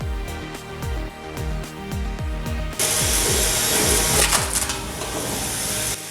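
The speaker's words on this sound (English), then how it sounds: "The added flywheel packs kinetic energy and does the real work, snapping logs clean." A homemade log splitter driven by a 600W washer motor with an added flywheel, giving rapid rhythmic mechanical clanks that shift into a louder, denser grinding crack as the wood gives way.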